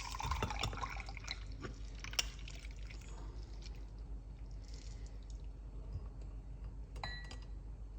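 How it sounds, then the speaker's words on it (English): Quiet trickle of mint tea being poured off, soft and steady over a low background hum, with a few small clinks. "you just want to pour it off"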